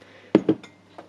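A small object dropped into a cup during hand stitching, giving two quick hard clinks in succession followed by a fainter tap, close and brief.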